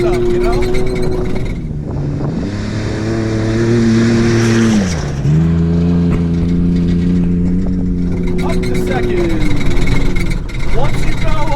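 Ford Ranger homebrew trophy truck with a V8 swap, its engine droning and revving up and down under throttle, running loud and close beneath ongoing talk.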